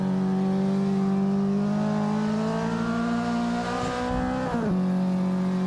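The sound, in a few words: car clutch and engine in Assetto Corsa racing video game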